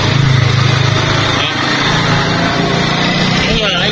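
A small power drill whines as it bores out the crank handle shaft of a fishing reel for a Gomexus knob upgrade, steady and close, with someone talking over it.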